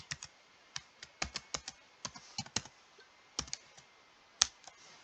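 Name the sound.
typing on a computer keyboard into a search box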